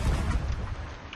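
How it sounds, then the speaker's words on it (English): Deep, rumbling cannon fire from a ship in Sea of Thieves, loud and booming at the start and then rolling off into a low lingering roar over the remaining second. "Just want to take a few cannon shots"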